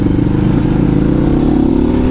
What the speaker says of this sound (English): Harley-Davidson see that? Boy, that new pipe works good